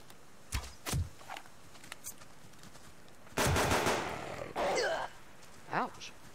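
Gunfire in the survival video game Subsistence: a few separate close shots, then a longer loud burst, a brief pause and a shorter burst, with footsteps and a voice between them.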